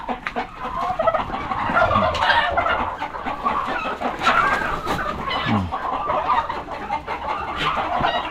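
Rooster crowing with other poultry clucking and calling at a backyard Philippine farm, several overlapping calls close by and fairly loud with no talking.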